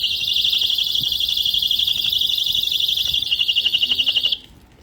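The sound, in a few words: personal safety alarm keychain buzzer sounding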